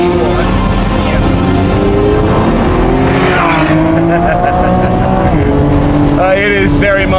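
Lamborghini Revuelto V12 supercar in a four-wheel drift on a track, the engine roaring loud and close with shifting pitch, tire squeal rising near the end.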